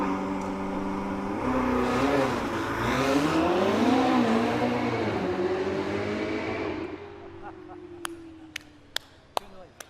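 A Ferrari engine revs loudly and rises in pitch, sustained for several seconds before winding down and fading, followed by a few sharp clicks in the quiet that follows.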